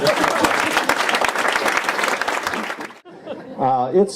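A big round of audience applause for a senator at a Ripon Society address, dense and steady, stopping abruptly before a voice begins speaking.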